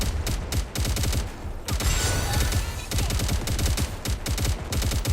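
Sustained automatic gunfire in the video game Nikke: dense, rapid bursts of shots, loud and close, in near-continuous volleys with only brief pauses, with no talk.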